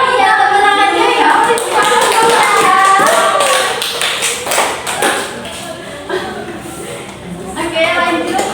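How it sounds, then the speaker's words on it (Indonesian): Third-grade students in a classroom clap their hands, a scattered, uneven burst of claps mixed with children's voices and chatter that thins out toward the end. "Iya, tepuk tangannya ya."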